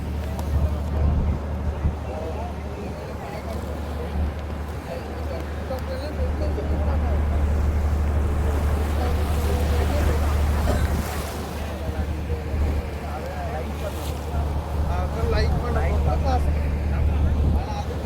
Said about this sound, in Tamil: அமைதியாக இருக்குது கடல்.